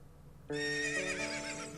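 A horse neighs in the video game The Legend of Zelda: Ocarina of Time, a sudden loud whinny that starts after a quiet moment and trails off in a shaky, wavering fall.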